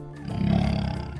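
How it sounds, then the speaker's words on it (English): A jaguar roars in a single sustained, deep growling roar, loud and close, swelling over about a second with no talk over it. "Jaguar."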